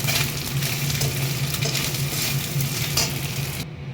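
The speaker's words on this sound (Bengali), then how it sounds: "চলো মাছগুলোকে ভেজে নিই" Fish pieces frying in hot oil, a loud, dense, continuous sizzle close to the pan that cuts off abruptly at the end.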